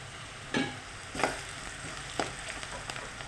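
Okra fries in a pan for a tomato curry, a soft steady sizzle broken by a few sharp scraping stirs at moderate volume, with no one talking.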